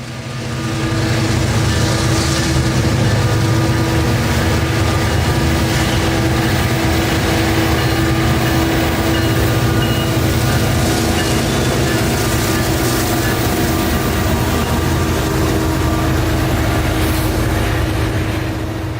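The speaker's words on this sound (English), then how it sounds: "As the EMD and GE locomotives rumble their way around the corner and onto the Vitus subdivision to head north" A long freight train led by an EMD SD40-3 with GE locomotives rumbles steadily past near Lakeland, Florida, a loud continuous roar of engines and rolling wagons without any talk.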